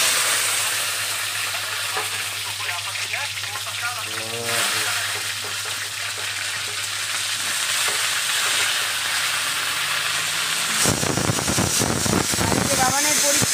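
Cauliflower fries in hot oil with cumin seeds, giving a continuous sizzle with bursts of spattering and stirring. It turns louder and harsher near the end, with a muffled voice briefly heard at times.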